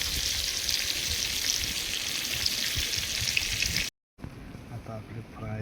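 Freshly caught fish frying in a pan outdoors, a loud dense sizzle that cuts out abruptly near the end, followed by quieter background sounds.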